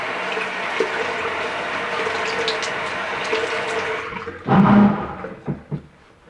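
Running water for rinsing the face during skincare aftercare, a steady tap-like stream that cuts off, followed by a few brief splashes.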